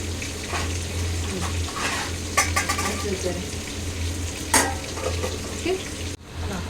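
Fish curry bubbling and sizzling as it comes to the boil in a pot, a steady low simmer with occasional stirring and utensil clinks, a person talking quietly over it.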